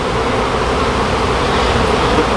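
A swarm of bees in a trash pile hums in a thick, unbroken drone, loud and near, with no voices.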